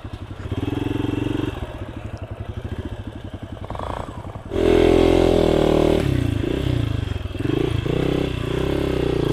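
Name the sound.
Hero Xpulse motorcycle riding through forest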